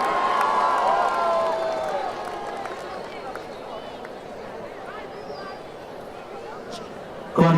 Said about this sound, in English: Put your hands together for JBC!